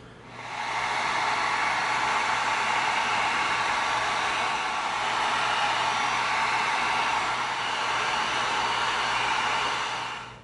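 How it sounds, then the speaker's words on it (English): A heat gun blows steadily while sealing raw EVA foam on a foam RE-45 auto pistol prop, giving a constant loud airy whoosh that starts and stops cleanly with no talking. "now we're going to come in with our heat gun and we're going to seal this whole end piece because all this is raw foam"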